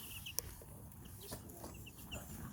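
Young chicks give faint, high peeps and soft clucks scattered through a quiet outdoor ambience, with a brief sharp tick near the start.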